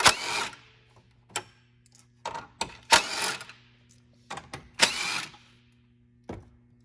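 A ratchet or driver with a 10mm socket backs out screws along the top of a 2022 Toyota Tundra's grille, giving short bursts of whirring and clicking separated by quiet gaps over a low hum.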